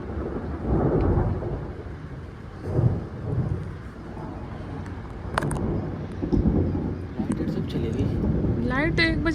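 Thunder from a nighttime storm following lightning, with steady rain underneath; deep rumbles rise and fall a few times at medium distance while a person talks softly over the storm.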